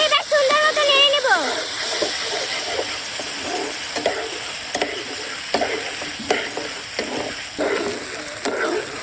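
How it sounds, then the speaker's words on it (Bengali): Rice mixed with dragon fruit being stirred in a pan of hot mustard oil with two cardamom pods: close scraping and stirring strokes over a soft sizzle, with a short squeaky rising sound at the start. "এবার সুন্দর মতো নেড়ে নেব"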